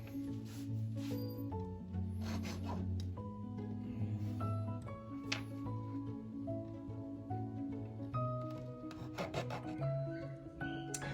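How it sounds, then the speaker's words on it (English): A fine-toothed hobby saw rasps steadily through a plastic part from an N scale Micro-Trains Union Pacific concrete tie loader kit, with soft, quiet back-and-forth strokes close by. "Gotta trim along there with the hobby saw."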